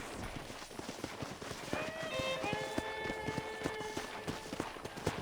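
Hooves clip-clop in a steady trot under a bright melodic tone, with a continuous rhythmic beat of footfalls throughout, from horse riding in the video game Red Dead Redemption.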